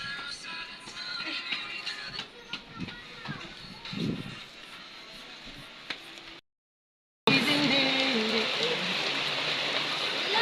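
Rain falls after two years of drought. Drops patter and tick on surfaces nearby, then a brief silence gives way to a louder, denser steady downpour with a running-water hiss.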